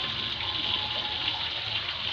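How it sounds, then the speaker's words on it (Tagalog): Bitter gourd seeds are rinsed under running water, a continuous close hiss and gush of flowing tap water throughout the brief moment, with no talking. "Huhugasan natin to."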